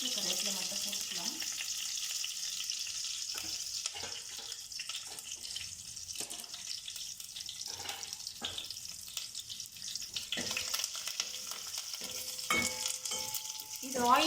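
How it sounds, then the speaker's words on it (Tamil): Spices sizzle and crackle in hot oil with asafoetida and curry leaves in a home kitchen, a steady frying hiss with intermittent stirring scrapes and brief splashes of running water. "இது ஆயிலில் நல்லா ஃப்ரை ஆகும்."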